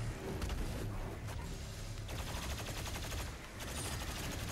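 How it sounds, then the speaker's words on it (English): Demons fire weapons in the game DOOM Eternal, a dense, continuous barrage of rapid gunshots and blasts that fills the whole moment with loud, layered noise. "Who's shooting at me?"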